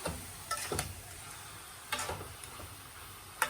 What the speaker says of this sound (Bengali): এই যে মাংসটা একটু নাড়াদা দেই